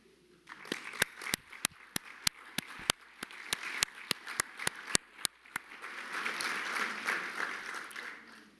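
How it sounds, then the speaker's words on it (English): A seated audience at a board of councilors meeting breaks into applause for standing guests, a steady crowd clapping that swells and holds for several seconds, with a few sharp louder claps near the microphone. "I'd like to have them rise and let them stand and be applauded."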